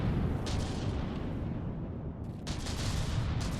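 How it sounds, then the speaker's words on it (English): Cram cannon shells pound a battleship in the From the Depths naval combat game, a dense rolling barrage of heavy booming impacts and rumble that never lets up. "The cramshells are hitting pretty well."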